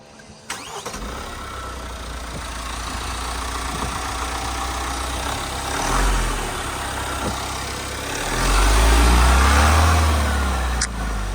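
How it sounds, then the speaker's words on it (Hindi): A car engine cranks and catches, then settles into a steady idle with a couple of swelling revs, close by and alone in a snowy setting. "एक बार गाड़ी स्टार्ट कर, फिर देखते हैं किस चीज़ की आवाज़ आ रही है"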